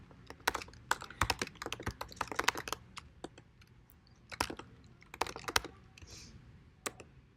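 Brisk typing on a computer keyboard, bursts of quick, crisp key clicks with short pauses between runs, close and clear with no talking.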